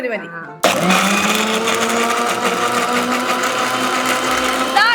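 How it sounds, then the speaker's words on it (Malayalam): An electric blender whipping milk into a creamy milkshake smoothie, starting abruptly after a brief quieter moment and then holding a loud, steady, high whirring roar close by until the end. "നേരെ സ്മൂത്തി അടിക്കുക"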